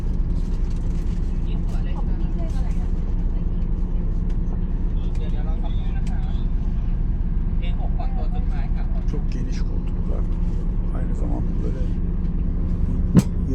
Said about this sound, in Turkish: Otobüste gidiyorum. Böyle iki katlı otobüs.